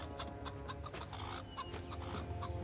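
A chicken clucks in short, repeated bursts at close range, a steady run of soft clucks with faint background rustle and no talking.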